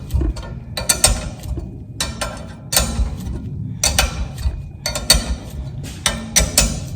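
Metallic ratcheting from an all-thread spring compressor being unscrewed off a Harley Softail springer front end, heard in repeated close, loud bursts of clicking.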